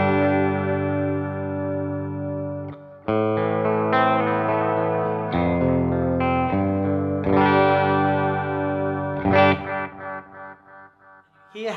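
Electric guitar played through an MXR Carbon Copy Bright analog delay pedal, sustained distorted chords and notes with bright repeats trailing behind them, loud and close with no talking.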